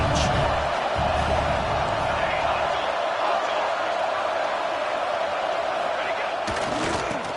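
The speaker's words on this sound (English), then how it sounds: "this crowd is at fever pitch" A packed football stadium crowd at a USC versus Oregon game roars continuously at a dense, loud level during a tense third-down play in the red zone.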